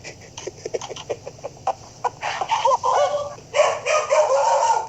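A dog barking in a run of short, sharp yaps that grow denser and louder toward the end, close by, with no talk over it.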